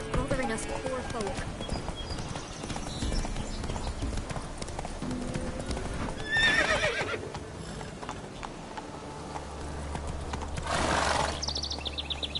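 Roach the horse gallops in The Witcher 3 with steady clip-clop hoofbeats throughout, a whinny breaking in partway, and game dialogue and music layered over the hooves.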